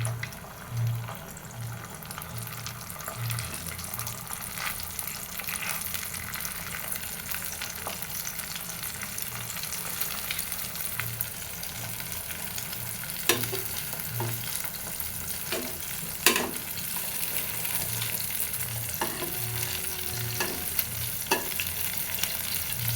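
Eggs frying in a pan with potatoes and sweet potatoes nearby make a continuous crackling sizzle, with a low pulsing hum underneath and several sharp clinks and scrapes of a utensil toward the end.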